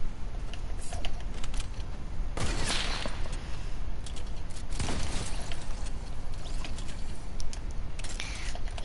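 Sharp gunshots from a sniper rifle in a shooter video game, two loud cracks standing out over a constant busy mix of game sounds and clatter.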